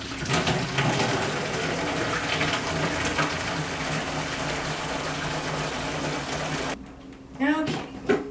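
Sterilizer solution mixed from powder pours into a home brew vat with a steady, continuous gush of liquid for several seconds, then stops, followed by a few faint knocks and splashes.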